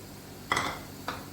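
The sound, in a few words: stirring yogurt into beef keema in a pan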